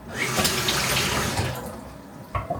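Tap water runs steadily into a sink while something is rinsed, a broad continuous splash that fades near the end before a brief louder gush.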